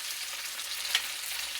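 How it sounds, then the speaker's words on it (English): Sliced potatoes frying over fairly high heat in a pan, a steady close hiss of sizzling with no voices. "And so now, I'm frying taters."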